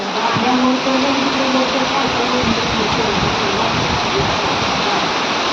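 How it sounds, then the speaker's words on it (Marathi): Heavy rain pours at a cattle shed as water flows in, a loud dense wash of noise that holds steady throughout, with a voice talking over it. "आत्ता पाऊस चार वाजले तोवर पाऊस चालू झाला आहे"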